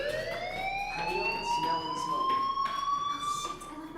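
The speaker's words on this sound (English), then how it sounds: "do you hear that fire alarm?" A rising, wailing fire alarm tone in the video game Life Is Strange sweeps steadily upward, sounding moderately loud over a murmur of background voices and noise.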